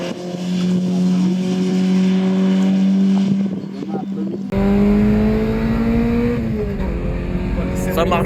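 A swapped engine in a Peugeot 106 runs steadily on a circuit, a loud sustained drone that holds one pitch, then rises and slides as revs change, with a voice talking over it.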